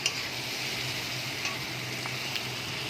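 Pointed gourd, potato and katla fish pieces frying together in hot oil for a fish curry, making a continuous, even, hissing sizzle with a few faint stirring clicks, close and steady throughout.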